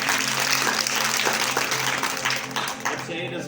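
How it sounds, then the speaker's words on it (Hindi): Audience applause at a children's magic show, a steady wash of clapping from a crowd with some voices mixed in underneath, sustained throughout. "तालियां मार के दसो"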